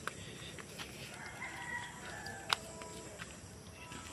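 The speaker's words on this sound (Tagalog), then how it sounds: "para sa native na mga manok. Ito yun, ito yung mga tandang." Native roosters on a farm in the morning crow in a distant, faint call against steady outdoor ambience, with one sharper nearby cluck or click breaking through.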